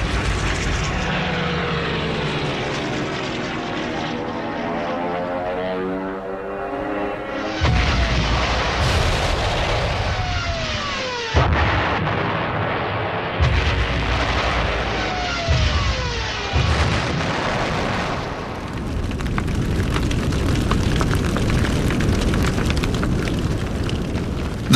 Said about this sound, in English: without any reinforcements or aerial support, the French tanks become prey to the Stukas